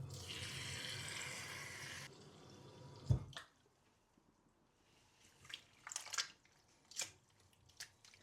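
A tap runs cold water with a hissing gush for about two seconds while chanterelle mushrooms are cleaned, then stops, followed by scattered drips and light wet clinks.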